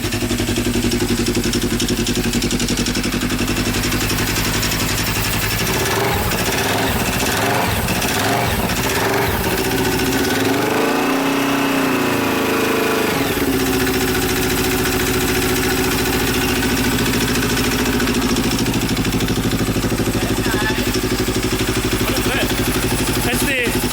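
A Polaris RZR side-by-side bought from Copart idles with a steady, loud mid-pitched engine drone that briefly rumbles and revs in the middle, with someone talking over it.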